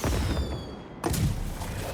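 Fireworks exploding in Marvel's Spider-Man 2: a dense, loud rumbling barrage of booms with a sharp new blast midway, continuous crackling rolling under it.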